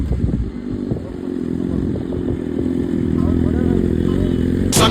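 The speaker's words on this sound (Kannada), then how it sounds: "ಮಸ್ತ್ ಮಸ್ತ್ ಬೈಕ್ ಬಂದವು ತೋರಿಸ್ತೀನಿ ಅಷ್ಟು." Motorcycles at an outdoor bikers' meet-up, a loud close engine rumble that holds steady throughout, with voices talking over it.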